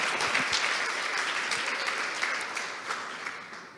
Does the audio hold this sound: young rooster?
no